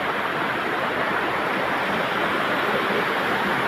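The Dharagiri waterfall near Ghatsila roars with a dense, continuous rush of falling water, steady and loud with no breaks, and no voices.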